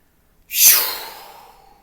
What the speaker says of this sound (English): you're going to push that breath as if you're imagining you're pushing your breath, your energy, out into this space